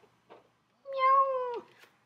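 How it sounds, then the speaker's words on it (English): A cat gives one clear, drawn-out meow, close and loud against near silence, heard during toy play with a firefighter set. "Oh my gosh, is that a cat?"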